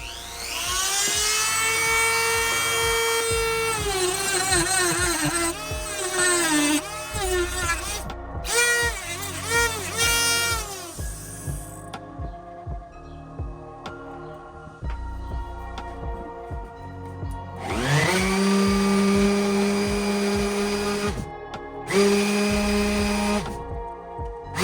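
A handheld power tool trims a 3D printed shift knob, whining at a high pitch that rises and falls in repeated bursts, with short pauses and revving between cuts.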